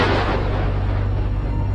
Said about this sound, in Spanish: Un disparo certero.